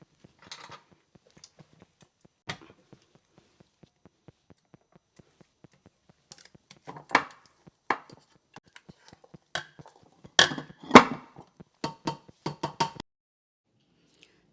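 A spoon stirs empek-empek dough mixture in a bowl, making sparse soft taps and knocks at first, then denser, louder scraping clacks near the end, close and alone.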